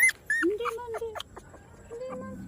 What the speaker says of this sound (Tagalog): Talagang bantay-bantay tayo ni Mama Dog kasi umiiyak-iyak nga yung puppies.